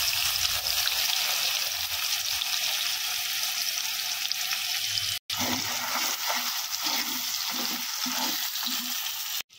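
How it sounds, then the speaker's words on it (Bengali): Chopped onions dropped into hot oil with dried chilli and bay leaf in a village-style chicken curry, a constant loud sizzle and spatter with soft stirring scrapes later, close up. "এবার পেঁয়াজ কুচিগুলো দিয়ে দিচ্ছি।"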